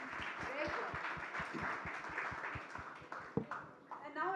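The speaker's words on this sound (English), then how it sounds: "let's have a big round of applause for all of you" Audience clapping at a corporate campaign launch event for a life insurance walking campaign, a rhythmic, fairly quiet patter of hands with a few sharper claps near the end, beneath a faint murmur of voices.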